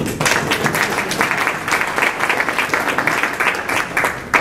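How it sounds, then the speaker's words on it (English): A meeting audience breaks into loud, dense applause for Bernie, sustained clapping from many hands filling the room without letting up. "So, hands, applause to Bernie for figuring out all of that."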